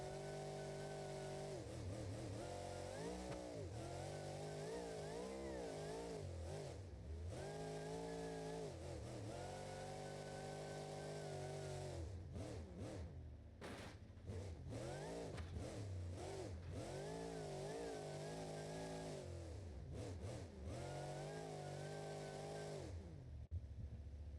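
A supercharged monster truck engine in BeamNG.Drive revs hard and repeatedly, climbing and dropping in pitch with brief lifts between bursts, loud and close with no talk.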